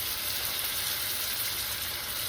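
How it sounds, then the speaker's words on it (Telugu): Ginger garlic paste frying in a hot pan, a steady bright hiss and crackle of sizzling oil that holds even and fairly close throughout, with no voices. "ఇదిగోండి అల్లం వెల్లుల్లి పేస్ట్ వేగిపోయింది."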